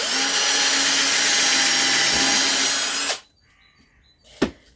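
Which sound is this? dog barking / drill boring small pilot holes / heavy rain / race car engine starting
drill boring small pilot holes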